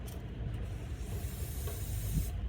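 Brake cleaner sprays from an aerosol can into a car's IAC valve, a soft continuous hiss heard faintly and close over low rumbling background noise.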